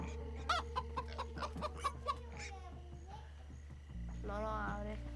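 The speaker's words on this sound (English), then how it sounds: "Oh, it's a chicken." Chicken in the Minecraft Story Mode video game clucking in a quick series of short clucks at moderate volume, then a lower hum of game sound.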